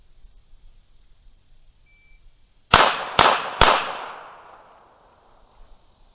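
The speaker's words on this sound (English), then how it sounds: "fire 3 shots into the chest from the ready position, strong hand only" Three sharp pistol shots fired strong hand only on a shooting range, a quick string of loud, close cracks about half a second apart, with a ringing decay after the last.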